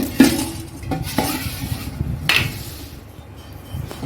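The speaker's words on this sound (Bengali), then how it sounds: "সব প্রথমে দিচ্ছি একটু চাল" Rice goes into a pot for chicken biryani, with a few sharp metallic clinks and scrapes of a utensil against the pot and a soft pouring rustle, close and fairly quiet, no talking.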